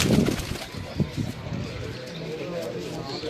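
Pigeon cooing on a Lahore rooftop during pigeon-flying, heard as low, soft throaty coos and bursts that are close and moderately loud, mixed with voices talking throughout.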